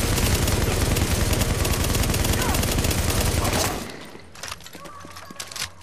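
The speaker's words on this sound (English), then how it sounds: "Why is there a shotgun shot right now?" Gunfire in the video game The Division, a shotgun among it: dense, loud rapid shots rattle continuously for several seconds, then give way to quieter scattered bangs and clicks.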